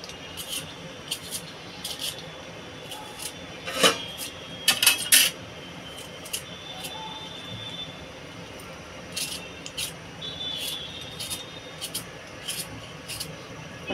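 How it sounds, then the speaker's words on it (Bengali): Potatoes being peeled by hand, with repeated short scraping strokes and occasional clicks of metal on a plate, irregular and close, with light background noise. "আমি আলুটা ছুলে নিই"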